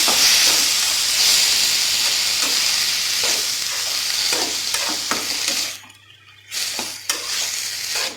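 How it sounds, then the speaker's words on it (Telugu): Chopped tomato pieces stir and fry in a pan for snake gourd curry over a medium flame, giving a steady close sizzle with a few scraping stirs that drop out briefly near the end, no talking. "బాగా కలిపి పెట్టండి. మీడియం ఫ్లేమ్లో ఉంచండి."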